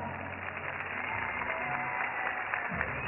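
Applause from an audience at a live event, a muffled, continuous clapping wash heard at a distance with a low rumble and faint voices underneath.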